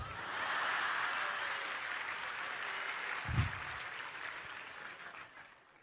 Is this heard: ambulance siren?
no